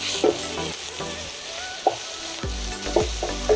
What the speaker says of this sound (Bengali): বাঁধাকপির ঠিক নরম পাতাগুলো দিয়ে একটা ভালো করে মিশিয়ে দিই।